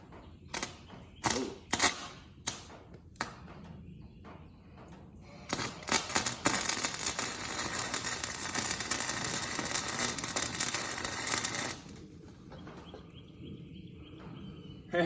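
Wire-feed welder in use: several short sputtering bursts, then a steady loud crackling and buzzing arc for about six seconds, followed by a quieter hum.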